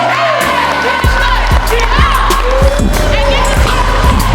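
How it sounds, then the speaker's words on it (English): Crowd cheering and whoops at a retirement celebration for Coach Jake Edwards, a steady loud roar over thumping music with a regular beat, with an announcer talking over it. "Give him a round of applause."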